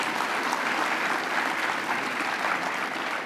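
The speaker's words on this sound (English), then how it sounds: "you all should, a round of applause for her and the rest of the team" An audience at an annual meeting applauds in a dense, steady burst of clapping that fills the whole stretch.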